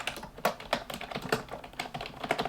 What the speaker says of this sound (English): I just keep typing my name.